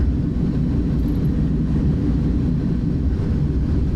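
iniBuilds A310 airliner in Microsoft Flight Simulator rolling out after landing at Innsbruck with thrust reversers deployed, a heavy, steady low roar of engines and rumble, loud and constant, no talking.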